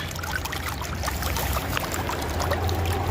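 Water runs and trickles out of a broken pump in a steady, close wash with faint gurgles and a low hum underneath, and no voice.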